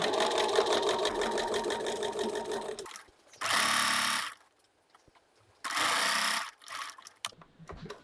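A sewing machine back-stitches a pouch seam, running in one longer burst and then two shorter ones, close and distinct with quiet pauses between.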